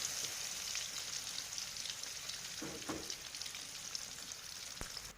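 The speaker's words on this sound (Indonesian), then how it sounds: "Langsung kita cemplung untuk kentangnya, kita goreng ya, sama warnanya sampai kecoklatan juga." Potato pieces fry in hot oil with a steady, crackling sizzle throughout, plus a few brief stirring knocks, with no voices.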